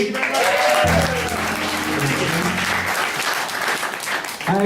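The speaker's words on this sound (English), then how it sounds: "I'd like to give a round of applause for the Empire Revue." Audience applause at a live stand-up comedy revue in Providence, a full room clapping loudly and steadily throughout with some cheering mixed in, fading slightly near the end.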